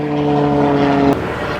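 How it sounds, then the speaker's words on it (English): A propeller airplane drones overhead near an RV campground in Moab, a loud steady tonal hum with layered harmonics that cuts off abruptly, leaving a broad rushing noise behind, with no voices. "Hopefully this plane doesn't really screw our audio up too bad."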